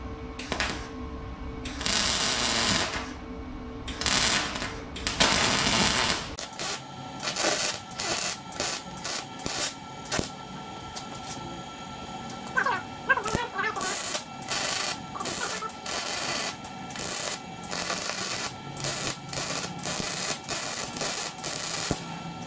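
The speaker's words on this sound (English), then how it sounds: "Gonna weld that on the end, that way I could thread in a weather tight fitting." A galvanized pipe coupler is welded onto the end of a light post, giving bursts of harsh crackling and buzzing arc noise in repeated short runs separated by pauses, close and fairly loud.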